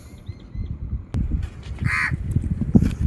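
A crow caws once, loud and close, over a muffled background of shuffling and handling noise, with a sharp click just before it and faint distant bird calls at the start.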